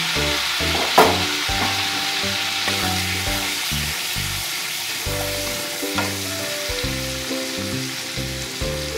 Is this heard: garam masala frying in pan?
yes